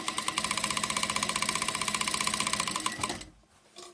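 A sewing machine runs a fast, even stitching rhythm close up, sewing the hem edge of a skirt made from a dress, then stops abruptly near the end, leaving quiet room noise.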